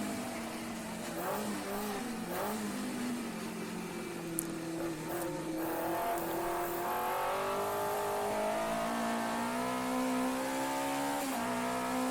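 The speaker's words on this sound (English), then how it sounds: "Okay, very nice sounding engine." A car engine revs and climbs through rising tones, heard loud and alone with no voices, the pitch sweeping up and down as the engine accelerates.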